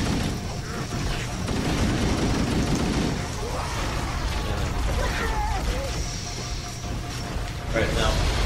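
Explosions and gunfire from the Halo video game, aboard a Flood-infested ship, with dense booming blasts and rattling bursts running continuously and loudly for the whole stretch, mixed with game effects.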